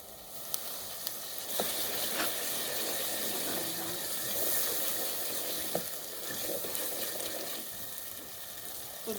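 Drops of water hit a hot frying pan while pasta is being made at home, giving a steady, fairly quiet sizzle broken by occasional sharp crackles and ticks.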